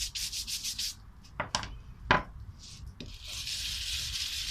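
Brush strokes scrubbing the surface of a handmade vertical ant nest, rapid rasping bursts near the mic, a few sharp knocks between them, then a steady continuous scrub to the end.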